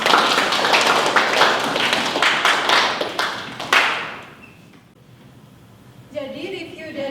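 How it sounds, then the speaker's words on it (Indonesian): A junior high classroom breaks into dense, close applause for a student, the clapping running steadily for several seconds before fading into quiet room noise, with voices briefly at the end. "Beri tepuk tangan untuk Mbak Desi"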